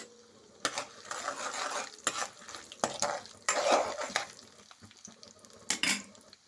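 Dried red chillies go into hot tempering oil with fenugreek seeds, making faint sporadic crackles and pops mixed with scattered spoon and pan clinks.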